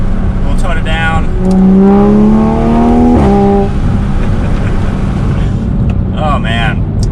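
A Toyota Supra with a Magnaflow Xmod active exhaust, valve open, revving loudly close by, the engine note climbing and falling through a couple of strong pulls while people talk and react over it.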